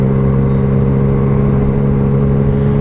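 Yamaha MT-09 motorcycle fitted with a Black Widow 200mm exhaust, ridden on a standard street: a steady, loud, close engine drone with strong low harmonics and a continuous whir, holding nearly even throughout with no talk.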